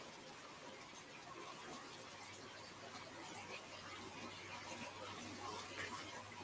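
Steady running water, such as a tap or sink, hisses as a continuous broadband wash in the background with a faint low hum, with no clear speech over it.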